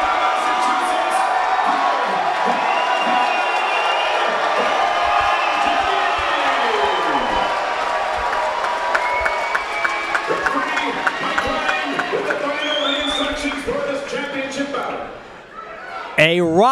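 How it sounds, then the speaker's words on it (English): A packed, raucous boxing crowd in Melrose, Massachusetts, awaiting a New England Junior Middleweight title main event, keeps up a loud, steady roar of cheering and shouting voices that only briefly dips near the end. "A raucous crowd on hand within this capacity crowd in Melrose, Massachusetts"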